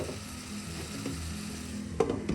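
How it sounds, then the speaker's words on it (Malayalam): Ground masala paste for prawns vattichathu sautéing in a pan over a low flame, a steady low sizzle with soft stirring scrapes and a sharper clatter near the end. "അരച്ച് വെച്ച് നമുക്ക് ലോ ഫ്ലെയിമിലൊന്ന് വഴറ്റിയെടുക്കാം."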